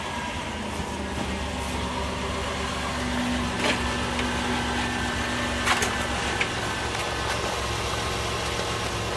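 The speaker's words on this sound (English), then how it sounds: "Okay, we started the vehicle back up." A 2004 Dodge Grand Caravan with a starter oil leak idles, its engine a steady, low hum lasting the whole stretch with a few faint clicks and knocks.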